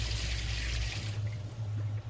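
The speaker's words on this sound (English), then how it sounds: "I think I'll pour a little bit of it out." Water pours out of a heavy cooking pot in a home kitchen while making shepherd's pie, a steady splashing gush with a low rumble that tapers into a thinner trickle, close and continuous.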